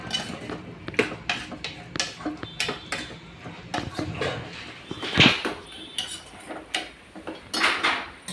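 A spoon scrapes and clanks against a pan while capsicum and potato curry is stirred, giving repeated metallic knocks and scrapes in an uneven rhythm, close and fairly quiet, with no talking.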